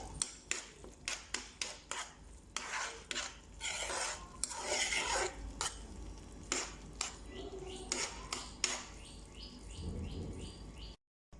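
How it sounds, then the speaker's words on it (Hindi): Egg halwa spooned out of a pan onto a dish, with repeated light metal clinks and scrapes of the spoon against cookware, soft and close, with no talking. "मैं इसे अभी आपको डिश आउट करके दिखाती हूँ"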